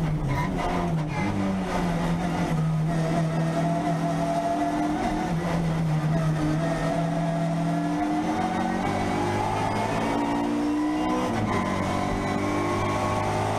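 A classic Mini race car with a twin-cam BMW motorcycle engine head roars and revs continuously on a hill climb, pitch rising and falling through gear changes as it climbs, loud and sustained throughout.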